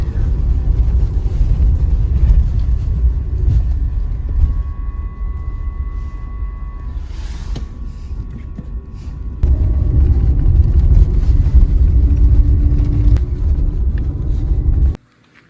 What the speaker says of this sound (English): Have to drive through a big mud puddle to get there though.